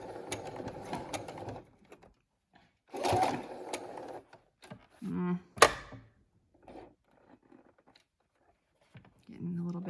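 A home sewing machine stitching a fabric mask with elastic, running in short bursts that stall and catch as the fabric jams, with quiet gaps between runs.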